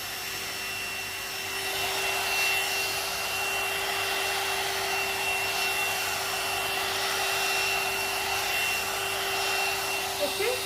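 One-step hair straightener brush blowing hot air on a medium setting, a steady close whooshing fan hum with a thin whine, continuous throughout with slight swells as it moves through hair.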